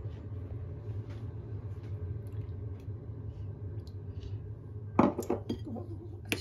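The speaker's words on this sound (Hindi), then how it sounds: "अच्छी तरह फेटेंगे इसमें।" Sugar and milk are whisked in a bowl for donut batter; after a low background rumble, a burst of rapid clinks and scrapes of the whisk against the bowl comes in close and clear near the end.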